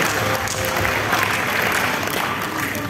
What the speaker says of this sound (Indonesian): tepuk tangan kita